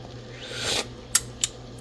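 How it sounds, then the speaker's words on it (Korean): Kitchen scissors snipping kimchi into small pieces, two short crisp snips standing out near the end over a steady low hum, preceded by a softer rising rustle. "김치를 가위로 잘게 잘게 썰어줄게요."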